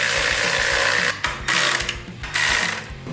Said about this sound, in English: With the clutch alignment tool in place, I'm snugging these bolts up just a little bit at a time.